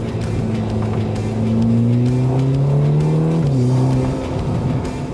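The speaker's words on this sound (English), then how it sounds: "There's a burble of the exhaust and the overrun." Ferrari Roma GT car's exhaust burbling and crackling on overrun, a loud, close engine note rising and falling with steady pitch sweeps, no talk over it.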